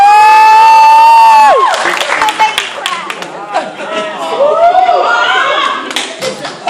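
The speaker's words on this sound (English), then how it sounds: "Give yourself a round of applause" Audience at a Carver High School night of speeches and poetry in Houston breaks into clapping and cheering, with shouts and whoops rising over a sustained wash of applause after a held tone fades.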